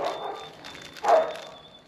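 Dogs bark excitedly indoors, a few muffled yips and one louder, sharper bark in the middle, heard alone without talk.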